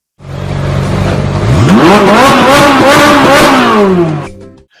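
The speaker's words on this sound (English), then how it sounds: "nothing confuses people faster than hearing a Ferrari wail come out of a Pontiac" A Pontiac Trans Am engine with a Ferrari-like wail idles, then revs hard: the pitch sweeps up into a high, howling wail, holds, and eases back down before the sound cuts off, loud and close.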